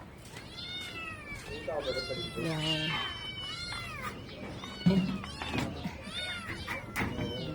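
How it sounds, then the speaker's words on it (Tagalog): Two small kittens meow over and over in high, thin cries at close range, mixed with a person talking to them during feeding. "Meron pa dito mga kuting."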